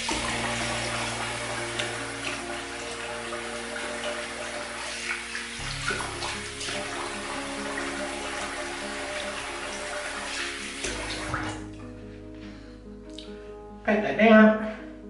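Tap water runs steadily to rinse off shaving lather after a wet shave with D.R. Harris Arlington soap, a continuous broadband wash that eases near the end, with a brief louder splash just before it stops.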